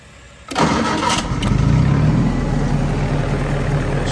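Army generator engine cranking and catching after a half-second of quiet, then settling into a loud, steady mid-pitched running drone close by.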